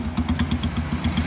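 A Honda CG 125 motorcycle engine with a damaged silencer idles loud and close just after a cold start, its exhaust beating in a quick, steady, uneven pulse.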